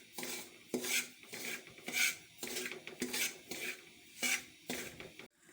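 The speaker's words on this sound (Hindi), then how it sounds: "सबसे पहले हम सूजी को 5 मिनट के लिए हल्की आंच पर भून लेंगे।" Dry semolina stirred in a pan on low heat, a steady run of scraping, rasping strokes of a spoon against the metal, close and fairly quiet with no talking.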